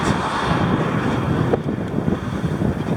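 Strong headwind buffets the microphone of a bicycle ridden between Alkmaar and Wassenaar in the Netherlands, a loud, continuous rumbling roar with gusty swells that holds steady for the whole stretch, with no talk.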